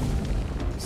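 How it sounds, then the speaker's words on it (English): A heavy, rumbling cannon blast booms from the Himeko's-ultimate attack in the video game Honkai: Star Rail, a dense, loud low roar filling the whole moment with no voices. "It's an AO cannon."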